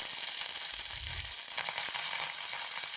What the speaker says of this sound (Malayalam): ഒരു 5-6 ഉള്ളി ചെറുതാക്കി അരിഞ്ഞ് വെളിച്ചെണ്ണ ഒഴിച്ച് അതിലൊന്ന് മൂപ്പിച്ചെടുക്കാം